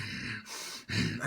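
A human voice imitates deep, unsettling breathing: two long, rough, airy breaths, one drawn in and one pushed out with a short gap between them, loud and close with no other sound.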